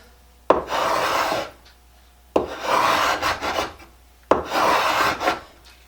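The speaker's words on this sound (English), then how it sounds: "with the scraper at an angle," A cabinet scraper for a Stanley #82 is drawn at an angle across wood in three long rasping strokes, each lifting shavings, loud and close with short pauses between and no talking.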